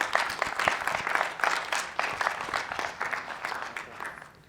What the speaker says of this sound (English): ladies and gentlemen, round of applause for our runner-up, Roger Dumortier